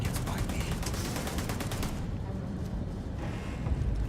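Rapid gunfire rattles in the space game Starfield, dense bursts of shots crackling over a constant rumbling background for about two seconds, then quieter scattered fire and muffled explosions continue.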